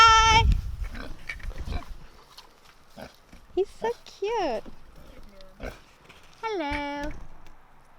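A pig at a farm gives a few short grunts and squeals between stretches of nearby voices, with quieter snorts scattered through the background.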